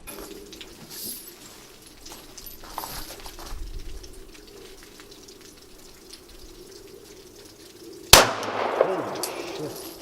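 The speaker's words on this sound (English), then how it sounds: "I'm gonna shoot some more guns" Single sharp automatic rifle shot at an outdoor gun range, loud and close, ringing briefly after a stretch of quiet ambient background with faint birds.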